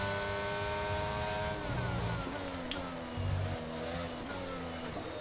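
A racing car engine in a video game winds up through the gears, a buzzy rising whine broken by quick shift dips, steady and moderately loud with no voices.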